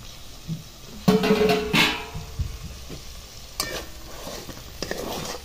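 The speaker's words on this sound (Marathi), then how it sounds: "एकदा हलवून द्यायची आणि चेक करायची कलथ्याने" A spatula stirs and scrapes a dal and vegetable curry in a pan, with several distinct scraping strokes over a soft background sizzle.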